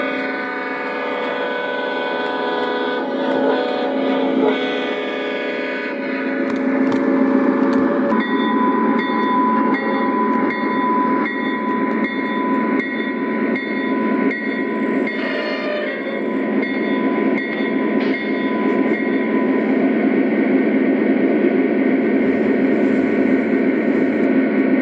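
A Lionel Legacy O gauge model Conrail diesel locomotive from the 2015 catalog runs steadily with a continuous motorized rumble and electronic diesel engine drone, a loud close whirr with shifting tones and a brief horn-like tone partway through.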